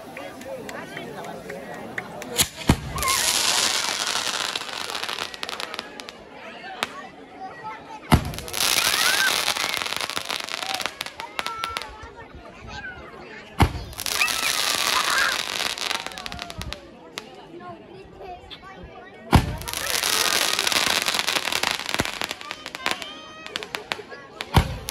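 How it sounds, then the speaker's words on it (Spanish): Fireworks burst repeatedly at a patron saint festival for the Virgen del Carmen in Gallos Grandes, Tula, with sharp bangs followed by long crackling sprays. The volleys recur in cycles, loud and nearby, while an announcer talks through them. "la pólvora patrocinada por José Inés Muñoz, enviada desde Houston para que la disfrutara toda la gente de Gallos Grandes"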